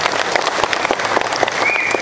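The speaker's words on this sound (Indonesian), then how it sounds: "Boleh beri tepuk tangan untuk mereka." Crowd applause at an Indonesian political gathering, a brief burst of dense, steady clapping at close range, with a faint whistle-like tone near the end.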